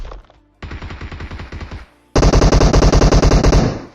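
Machine gun fire in a battle royale mobile game: a rapid burst of automatic shots, a short pause, then a louder, faster and longer burst, close and aggressive with no talking.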